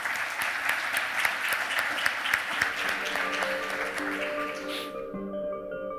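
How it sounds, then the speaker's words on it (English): An audience at an international net-zero energy forum applauds the panelists, a dense burst of clapping that thins out and stops near the end as a soft tone rises beneath. "A round of applause for the panelists."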